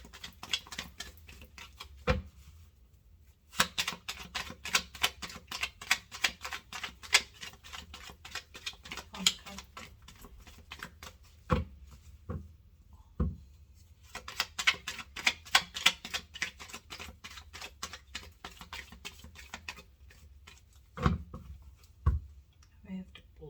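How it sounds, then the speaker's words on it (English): Rapid, crisp riffling and flicking of tarot cards repeats in bursts, with short pauses and a few sharper taps between shuffles. "I have to keep shuffling."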